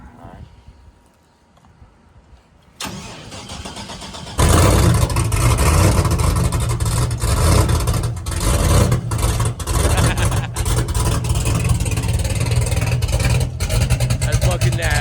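A car engine without its exhaust turns over and catches, then settles into a loud, rough, steady idle with occasional revs.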